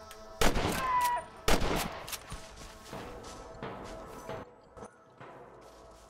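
Sharp gunshots ring out in Red Dead Redemption, a couple of loud cracks early then scattered quieter shots, with someone talking between them.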